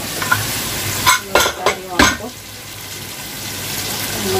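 Nihari masala being stirred and fried in a pot, several scraping stir strokes clustered in the middle over a steady soft sizzle, with no talking.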